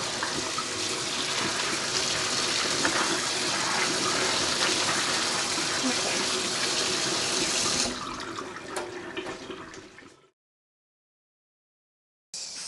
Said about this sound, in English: You rinse your soybeans with water.